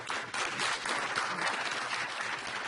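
Audience clapping at a town board meeting, a steady dense wash of many hands applauding in a hall, fairly faint and even throughout with no pauses.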